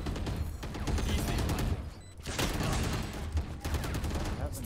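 Shooter video game gunfire in a tactical round with smoke and a planted spike, rapid bursts of shots filling most of the clip with a brief lull in the middle, loud and dense over background game sound.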